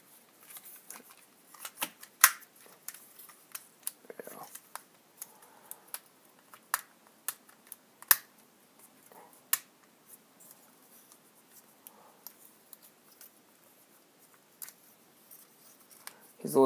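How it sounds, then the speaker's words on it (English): Stiff plastic legs of a Takara Tomy Transformers Rodimus Prime figure are pulled and clicked, giving scattered sharp ticks and snaps over about seventeen seconds with quiet handling rustle between them. "I hate trying to pull these damn legs out."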